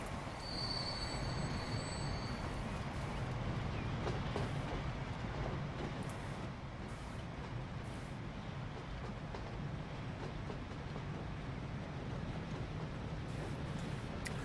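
Trains run in the Transport Fever game on a UK and Ireland map, giving a steady rumble of wheels on rails with a high metallic squeal and occasional faint clicks, continuous and fairly close.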